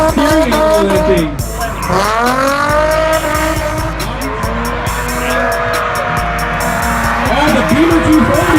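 A BMW 240 drifts with loud, sustained tire squeal and a high-revving engine whose pitch rises and falls through the slides, heard close and continuous.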